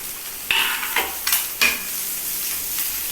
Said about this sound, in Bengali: এই আলুটাকেও ভালো করে ভেজে নিতে হবে